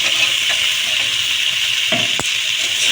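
Fried pointed gourd, boiled potato and vegetable stems go into a hot pan for a lata fish curry, giving a constant close sizzle with a few soft knocks and thuds as pieces drop in.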